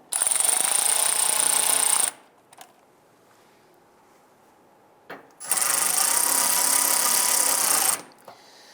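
A power tool drives screws into the inner fender liner of a 2002–2008 Ram 1500, making two loud, steady whirring runs of a couple of seconds each with a quiet gap between.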